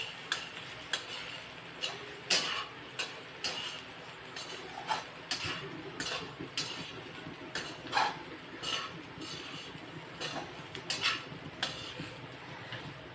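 Okra (bhindi) being stirred in a pan, with a rhythmic series of close scraping and tapping spatula strokes over a faint, low sizzle, no talking.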